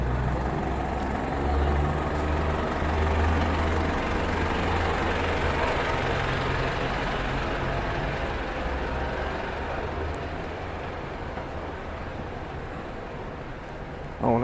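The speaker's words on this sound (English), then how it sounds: "Alright, so excuse the noise of the lorry." A lorry engine idles on a London street, a loud, close, steady low rumble with a constant throb that eases slightly toward the end, with distant traffic and city hubbub behind.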